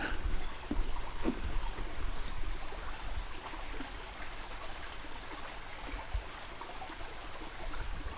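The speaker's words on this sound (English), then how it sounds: "There's a creek here." Steady broadband rushing of a flowing creek at Petrel Point fills the scene, with faint, very high brown creeper chirps repeating now and then above it.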